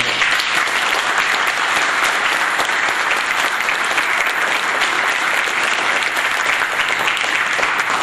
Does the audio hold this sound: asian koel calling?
no